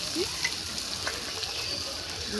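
Banana stem, soaked chana dal and potato cooking in a pan, giving a soft, even sizzle with occasional light stirring scrapes, moderately close and fairly quiet.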